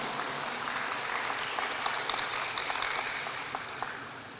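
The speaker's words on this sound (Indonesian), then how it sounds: "Tepuk tangan untuk perawat sultan." Audience clapping for newly sworn nurses at a nursing professional oath ceremony, a dense, steady patter of many hands heard from some distance, no talk.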